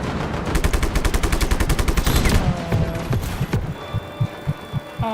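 Rapid bursts of automatic gunfire rattle loudly in a roleplay video game, dense repeated shots for about three seconds, then thinning out into a few spaced single shots.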